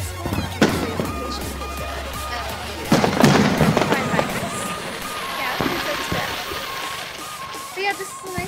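Fireworks bursting at an outdoor ice festival, a series of loud cracks and booms with crackling tails, the heaviest volley around the middle, with crowd noise and talk underneath.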